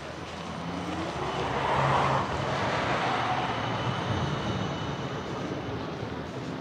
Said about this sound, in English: This is a old trams with some advertisements on it.